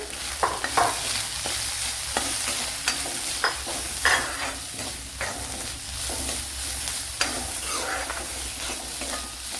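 Chopped onion with green chili frying in oil for a papaya cutlet filling, a steady sizzling hiss broken by repeated scraping stirs of a spoon against the pan, close and without speech.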